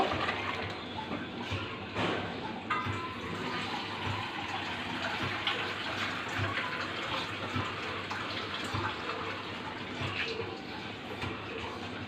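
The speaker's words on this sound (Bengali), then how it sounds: "এখন জল দিয়ে দিব" Water poured steadily into a pan of cooking bottle gourd with prawns, a continuous rushing, splashing flow lasting throughout at an even, moderate level.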